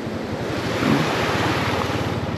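A river flowing below a mountain near Edralin Falls gives off a steady, even rush of water, close and continuous with a light wind-like hiss and no voices.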